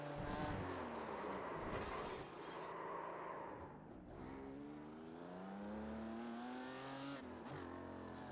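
Race car engine in an N24 Nürburgring 24-hour racing video game revving hard through the gears, with rising pitch sweeps broken by shift dips and a short lift before it climbs again; a constant, close, fairly quiet game soundtrack.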